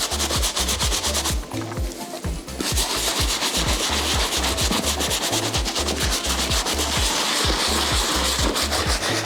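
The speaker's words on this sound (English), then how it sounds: "Getting the scrub on the uppers." A brush scrubs the wet, lathered uppers of Jordan sneakers in quick, rhythmic strokes. The close, raspy scrubbing runs steadily throughout, pausing briefly near the start.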